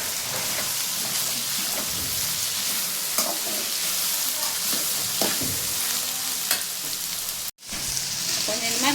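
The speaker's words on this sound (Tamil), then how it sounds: "கருவேப்பிலை போட்டு வதக்கிக்கலாம்." Curry leaves sizzle and crackle in hot oil in a pan for a vegetable stir-fry, a loud steady frying hiss with occasional spatula scrapes and a brief cutoff near the end.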